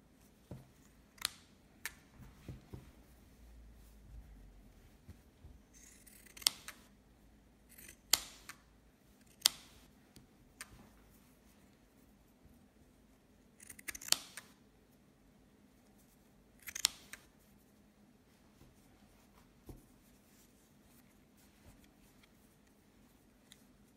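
LAOYE pinking shears cut through fabric in a quiet setting, giving a series of sharp, isolated snips spread irregularly over the span, some single and some in quick pairs, with no talking.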